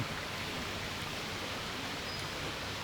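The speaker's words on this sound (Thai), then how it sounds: "ได้ยินเสียงน้ำไหลตลอดเวลาจากแม่น้ำเพชรบุรี" The Phetchaburi river flows past a riverside campsite in Kaeng Krachan National Park, Thailand. It makes a steady, even rush of water that goes on the whole time with no talking.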